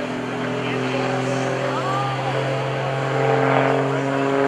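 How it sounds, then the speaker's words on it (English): A propeller aerobatic airplane rolls through a routine at a lakeside airshow, its steady engine drone and harmonic hum carrying continuously, swelling slightly louder near the end, with no talk over it. "There he goes, rolling the airplane around."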